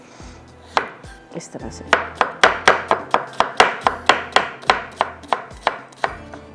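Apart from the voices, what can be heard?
chopping onions with a knife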